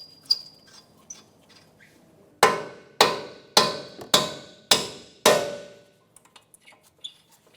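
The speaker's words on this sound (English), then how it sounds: "You may have to tap them with a hammer." A hammer taps strut bolts out on a 2012-2016 Subaru Impreza, giving six sharp, ringing metallic strikes at an even, close rhythm, with light clicks and handling noises before and after.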